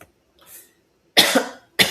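A man coughs: a faint breath, then two loud, close, harsh coughs in quick succession with a short throat-clearing catch between them.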